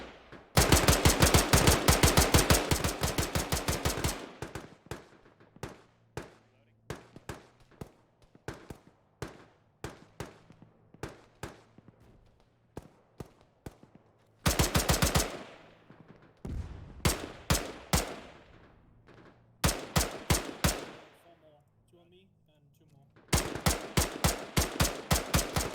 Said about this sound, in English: You got plenty of rounds with the ammo box nearby, so I don't mind putting some downrange.